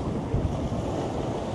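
Steady wind and rolling waves surround a sailboat crossing the open Atlantic toward the Azores as the wind picks up, giving a constant broadband rush with no voices.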